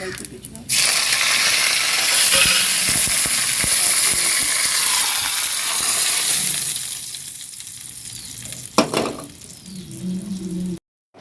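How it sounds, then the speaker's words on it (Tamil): Cumin and curry leaves sizzle in hot coconut oil for a Kerala aviyal, a steady loud frying hiss across the clip with a few stirring clatters, and a sharper spatter near the end before it cuts off. "இப்போ தாளிக்கலாம் வாங்க தேங்காய் எண்ணெய் ரெண்டு ஸ்பூன் தாளிப்பதற்கு எண்ணெய் தேங்காய் எண்ணெய் காயிட்டோம் சீரகம் தாளிப்பதற்கு சீரகம்"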